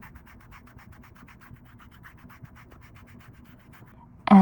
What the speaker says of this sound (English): you want to do a little bit of foot filing. So I just use this and go along this line.